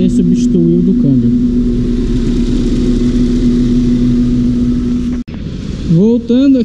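A transmission fluid exchange machine runs while heating fluid for a Jaguar gearbox service, a steady mid-pitched motor hum with a strong constant tone, briefly cutting out near the end as voices speak over it at start and finish.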